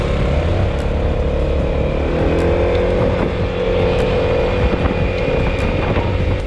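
A Yamaha X-Max 300 scooter with a liquid-cooled single-cylinder four-valve engine hums steadily while riding, loud and continuous, its engine drone mixed with wind rush and road noise.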